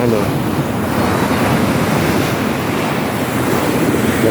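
Big, rough sea waves churn and crash continuously on the Palawan coast during a typhoon, a loud, dense roar mixed with heavy wind buffeting the microphone.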